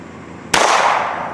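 A single sharp revolver shot, .38 Special or .357, fired at an SUV's aluminum engine block outdoors, a loud close crack with a brief decaying echo.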